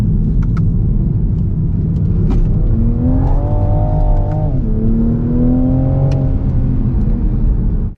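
A Toyota GR Supra's BMW turbocharged six-cylinder engine revs loudly and close, its tone climbing, dipping and climbing again over a steady low rumble, with no talk over it.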